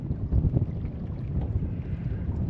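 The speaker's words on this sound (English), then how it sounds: "It's a bit windy, windier than I like" Gusty outdoor wind buffets the microphone near water with a low, rumbling roar that swells and dips in steady pulses, with no voices.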